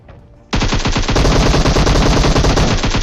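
Automatic gunfire in PUBG bursts in after a short quiet moment and keeps going as a loud, rapid, unbroken rattle of close shots until the end.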